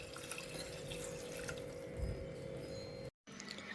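Water pours steadily into a pot of tomato biryani, a faint continuous trickling and splashing over low kitchen hum, broken by a brief dropout near the end.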